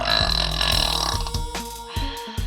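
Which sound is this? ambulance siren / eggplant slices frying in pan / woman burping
woman burping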